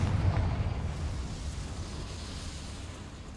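A Confringo fire spell explodes in the video game Hogwarts Legacy, a deep booming blast at the start that rolls into a low, fading rumble over a few seconds.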